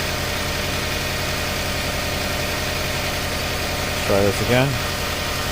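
A 2008 Jeep Grand Cherokee 5.7L Hemi with misfires on cylinders 4, 6 and 7 idles steadily and close by, with a brief surge near the end, while someone talks over it.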